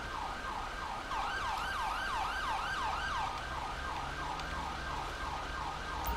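An ambulance siren in the GTA 5 video game, responding in Paleto Bay, wails in a steady, repeating rise-and-fall cycle for the whole stretch over a low traffic rumble.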